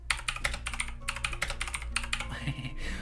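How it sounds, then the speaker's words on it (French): Clacky mechanical keyboard keys typed in quick bursts, crisp close clicks in uneven rhythm with short pauses between flurries. "J'ai mon clavier mécanique, je suis désolé. Ça va faire clac, clac, clac."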